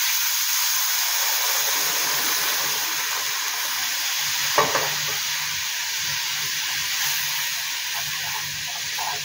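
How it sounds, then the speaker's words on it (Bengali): Milk poured into hot butter and oil in a pan for a vegetable macaroni breakfast, hissing and sizzling steadily up close, with one brief louder splash-like burst midway as stirring continues. "দুধটা দিয়ে সমানে নাড়াতে হবে।"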